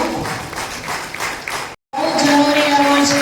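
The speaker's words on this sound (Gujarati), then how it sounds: "જોરદાર તાળીઓ." An audience applauds at an award ceremony in Bodeli, clapping steadily and loudly with a broad crowd wash, broken by a brief silent gap midway before the clapping resumes.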